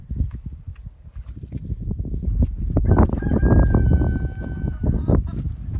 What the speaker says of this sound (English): the chickens are out today